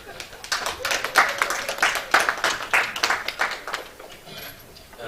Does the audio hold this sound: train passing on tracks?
no